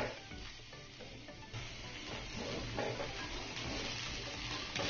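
Noodles and fried vegetables stir-fry in a pan over a high flame for Hakka noodles, a steady close sizzle with soft stirring scrapes that swell slightly louder partway through.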